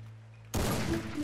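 A sniper rifle shot in the battle royale game Garena Free Fire, one sudden loud blast followed by a short decaying rumble, heard alone without talking.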